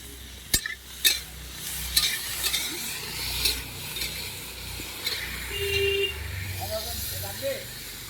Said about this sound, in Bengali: তো সেই জন্য এখানে সবজি ভাজছে।